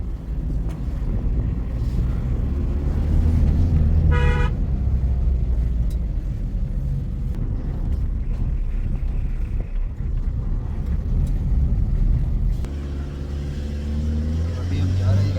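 Car lurching along a rough, difficult road in Kashmir, a loud steady engine and road rumble with wind buffeting the microphone, and people talking over it.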